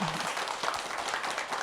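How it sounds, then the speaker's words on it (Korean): A studio audience at a televised lecture by a guitarist applauds, a brief, even burst of clapping with a faint voice briefly audible at the start. "박수 한번 쳐주세요"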